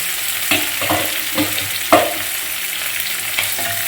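Onion and garlic frying for okra masala sizzle steadily in a pan while a spoon stirs them, scraping and knocking at irregular intervals, with one louder clack near the middle.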